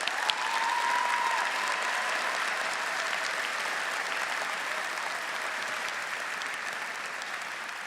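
Sustained applause from a large crowd at an Auburn University commencement ceremony honoring graduates, a steady, even roar of clapping that holds throughout and eases off slightly near the end.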